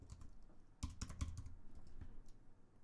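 Close, quiet keystrokes on a computer keyboard, a quick burst of several clicks followed by a few scattered taps.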